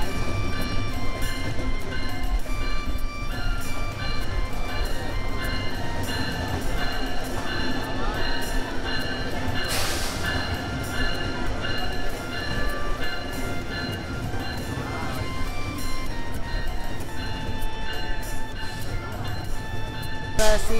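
Rupasi Bangla Express, a crowded passenger train on the Benapole–Dhaka route, standing at Kashiani junction: a steady rumbling, hissing din runs throughout, with a brief sharper burst midway and a murmur of voices underneath.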